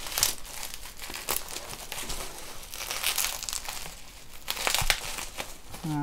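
A crinkly plastic package of vaping supplies being cut open, close loud crackles and rustles in uneven bursts throughout, with no talk over them.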